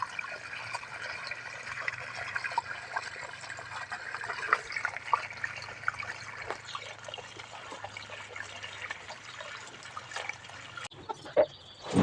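Tap water runs steadily in a continuous trickling stream at a village home where goats are kept, close and fairly loud, ending with a brief clatter near the end.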